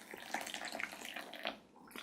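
Hot water at about 85 degrees C is poured onto Yunnan Gold tea leaves, a soft, close trickle and splash that runs continuously at low volume with no talking.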